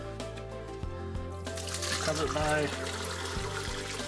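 Hot water pours and trickles steadily into a container over corned beef while someone talks over it, the splashing rising briefly midway before easing.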